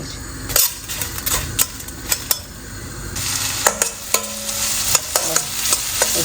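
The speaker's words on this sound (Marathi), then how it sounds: "त्याला जिरे टाकायचे आणि हे सांगितलं धने ते टाकायचं. चांगलं मिक्स झालं तर आपण कांदे वगैरे जे आहे ना ते टाकून घ्यायचे." Onions frying with cumin and coriander in a pan, stirred with a metal utensil: steady sizzling under repeated sharp scrapes and clinks against the pan, close and fairly loud.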